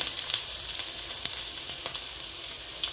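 Ghee sizzling in a hot pan, a bright continuous hiss with small crackling pops throughout, close and alone without speech.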